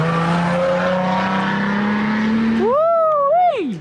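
A rebuilt, previously wrecked 2020 Jeep Gladiator Rubicon idles with a steady, loud engine drone, then revs hard as it pulls away, the pitch climbing sharply in a couple of surges up close.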